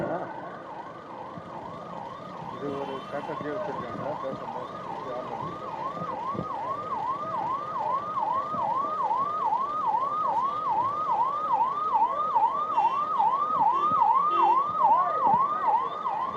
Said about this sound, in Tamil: இன்னும் ஒரு 5-6 ஆம்புலன்ஸ் போகும்